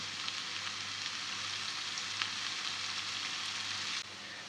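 Onions sautéing in olive oil with a pinch of salt give a steady close sizzle and crackle that runs evenly and then drops a little in level near the end.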